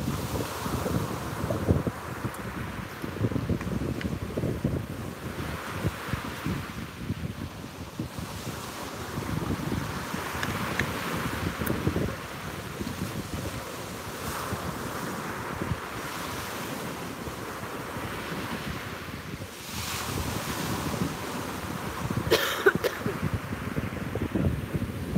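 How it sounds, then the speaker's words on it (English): Ocean waves crash on a beach at sunrise in a steady, wide wash of surf and wind that rises and falls without a break, with no voices. "listen to the sounds of these crashing waves"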